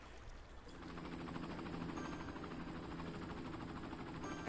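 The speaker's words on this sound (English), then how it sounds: "You help, helicopter." A helicopter drones steadily in Cities: Skylines, a low, fairly faint rotor chop with a continuous buzzing hum throughout and no voices.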